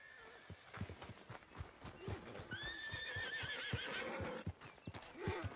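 A horse whinnies loudly over steady clip-clopping hooves in the video game Red Dead Redemption 2, with a second neigh rising partway through and hoofbeats continuing throughout.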